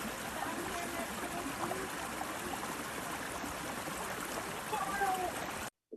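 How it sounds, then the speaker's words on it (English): A babbling brook flows in a steady, continuous wash of water with small gurgles, fairly close and even throughout before cutting off abruptly at the end. "let's get some more babbling brooks"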